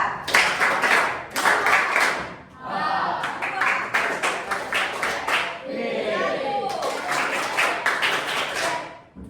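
A group of schoolchildren claps in quick bursts of sharp, fairly close hand claps, broken by pauses where an adult teacher speaks and counts, with the children's voices mixed in.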